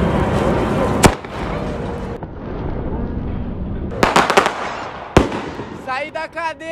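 A loud sharp firework rocket bang, then crackling hiss and a second pair of sharp blasts, followed by whistling and voices nearby.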